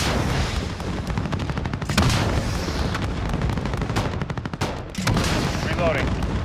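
Call of Duty Modern Warfare battle sounds: rapid bursts of heavy gunfire crackle steadily, punctuated by two booming missile strikes, loud and close throughout.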